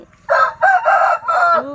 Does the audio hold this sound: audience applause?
no